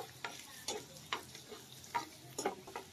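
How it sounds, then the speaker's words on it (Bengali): Peeled garlic cloves and three dried red chillies fry in a pan, giving a quiet sizzle broken by a few sharp stirring scrapes and taps at a steady, unhurried rhythm. "রসুনটা একটু ভেজে নিব।"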